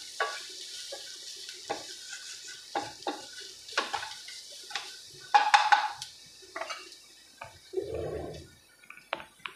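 A spoon stirs raw mango rasam in a cooking pot on a gas flame turned low, after pepper and turmeric powder go in. Light, irregular scrapes and metal clinks sit over a faint background hum.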